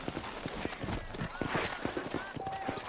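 Steady clip-clop of horse hooves trotting close by in Red Dead Redemption, a quick regular rhythm over a busy background, with a brief snort or whinny.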